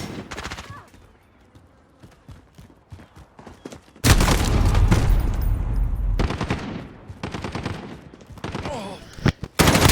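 Rapid M4A1 rifle fire from a Modern Warfare match against bots: quiet sporadic shots early, then a loud sustained automatic burst from about four seconds on, with shorter bursts continuing to the end and talk faintly mixed in.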